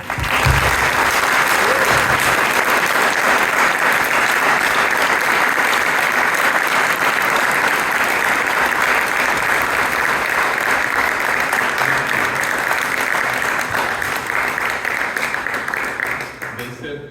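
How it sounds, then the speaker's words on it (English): A large conference crowd greets the guest speaker with sustained, loud applause, a dense wash of clapping that holds steady for over fifteen seconds before tapering at the end, with faint cheering mixed in. "please join us in giving a warm round of applause to our guest speaker, Father Greg Boyle"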